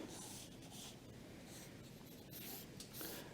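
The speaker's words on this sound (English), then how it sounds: "So first I'll sketch with a charcoal pencil, and I'll make my composition." Charcoal pencil scratching and rubbing across buff-colored paper, a steady close sketching sound with short strokes in a continuous rhythm, quiet and alone.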